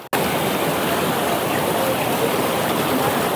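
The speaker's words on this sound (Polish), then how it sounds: "No, to jesteśmy przy wodospadzie." A waterfall on the Brazilian savanna roars in a continuous, loud, broadband rush of falling water that stays steady from start to finish.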